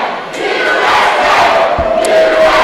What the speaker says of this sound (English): you can hear the chant of USA amongst the fans tonight